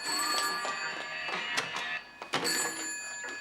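A telephone bell rings indoors in repeated bright, metallic bursts, fairly close, with small bumps and movement noises between the rings.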